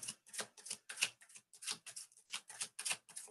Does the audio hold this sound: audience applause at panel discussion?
no